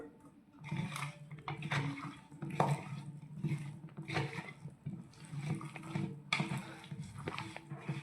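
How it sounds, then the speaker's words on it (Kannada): Water is poured into aloo kabab dough at close range, a splashy trickle in several short bursts that mixes with the thuds of kneading and handling in a home kitchen. "ಒಂದು ಸ್ವಲ್ಪ ನೀರು ಹಾಕ್ಕೋಬೇಕು."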